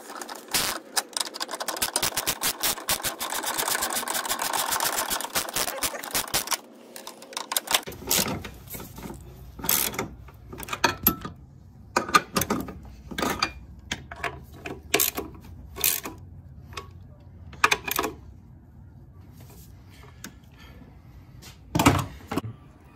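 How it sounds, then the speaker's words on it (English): Tightening nuts on the upper engine mount bolts of a Cavalier/Sunfire 2.2L Ecotec, a ratchet first whirs in a rapid run of clicks, then a series of separate close metallic clicks and knocks follows with gaps between them. "we've got all our bolts tightened down, not all the way, but pretty tight"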